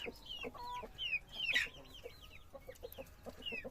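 Chicks cheeping and chickens clucking nearby in a steady, busy chatter, with high peeping calls scattered throughout.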